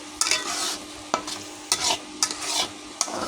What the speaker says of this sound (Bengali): তো সেই দুধগুলো আমি দিয়ে দেব এবার ভালো করে নেড়ে দেবো